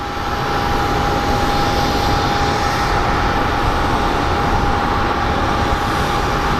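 Southwest airliner pushing back from the gate at Phoenix Sky Harbor airport, a steady loud engine drone with a persistent whine running unbroken throughout, no voices.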